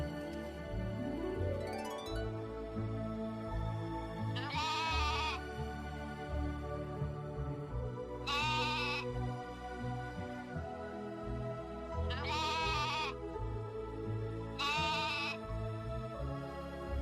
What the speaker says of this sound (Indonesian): terdengar sayup-sayup suara domba yang cukup jauh